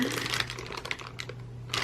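Close crinkling of a plastic bag filled with gouache paints, irregular crackly rustles in quick bursts, with a louder crunch at the end and no talking.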